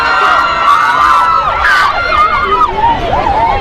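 A crowd of football fans at a Nebbi Central FC match roars and shouts continuously, loud and close, with whistles and excited voices rising and falling over the din.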